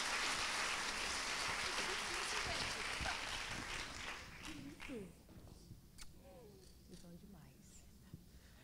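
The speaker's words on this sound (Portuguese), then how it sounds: "Vamos aplaudir mais forte" Audience applause at a church conference session in Brazil, a broad clapping wash that fades after about four seconds, leaving softer talk and scattered sounds.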